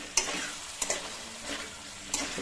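Pork pieces being added to a hot pan with no oil, cooked with raw turmeric and bhut jolokia chilies, giving faint sizzling with a few sharp clatters and stirring bursts.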